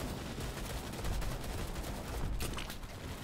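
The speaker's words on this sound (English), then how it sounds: "Sorry, misfire." Gun misfire in the Starship Troopers: Extermination video game, a faint, harsh, crackling burst of rapid gunfire-like noise that runs continuously with a couple of sharper surges.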